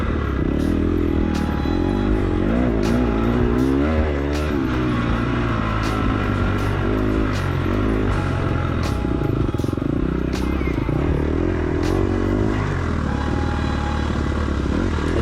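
A KTM four-stroke dirt bike revs close by in a hare scramble, its throttle blipped repeatedly in short rising bursts over a constant engine drone, with clattering and knocks on rough terrain.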